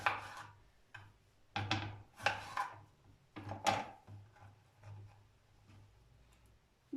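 Several crisp knife strokes against a board as an apple is cut into slices, spaced irregularly, close and fairly quiet with a faint low hum underneath.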